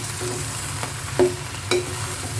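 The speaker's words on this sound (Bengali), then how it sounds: "পুঁই শাকগুলো দিয়ে ভালো করে নেড়ে চেড়ে দেবো" Malabar spinach being stirred with prawns and spices in a pan, a steady low sizzle with two brief louder scrapes of the spatula, close by with no talking.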